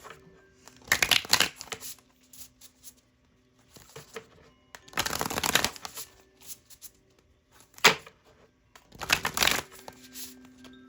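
Tarot cards being shuffled by hand, four separate riffling bursts with short quiet gaps between them, close and fairly soft.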